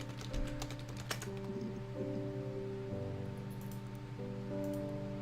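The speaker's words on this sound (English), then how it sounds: "just typing random things now" Typing on a computer keyboard: a steady patter of soft, close key clicks running throughout, under a constant background hum of electronic tones, with no talking.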